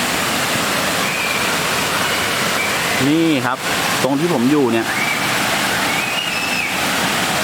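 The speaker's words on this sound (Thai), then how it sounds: "เป็นลำธารแบบนี้" Stream water rushing over rocks beside a waterfall campsite in Lopburi, a steady broadband flow running throughout, with someone talking over it in the middle.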